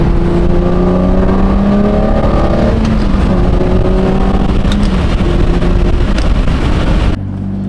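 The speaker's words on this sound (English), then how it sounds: "We finally finished up converting the 580 Murcielago to a 6-speed manual. We're road testing it right now." Lamborghini Murcielago 580 converted to a gated 6-speed manual on a road test, a loud close engine drone rising and falling through gears as revs climb, then dropping abruptly near the end.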